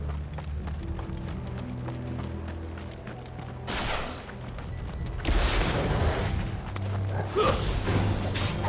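Horse hooves clip-clop at a gallop in Final Fantasy XVI over a steady low game-engine rumble, with sharp bursts of crashing impact noise swelling loud in the second half.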